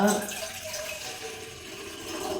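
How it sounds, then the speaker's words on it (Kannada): Water pours from a vessel into a pot on a gas stove while preparing radish saaru, a steady splashing wash of moderate loudness that lasts throughout without a break. "ಒಂದು ಅರ್ಧ ಚೊಂಬು ನೀರು ಹಾಕ್ಕೊಂಡಿದ್ದೀನಿ"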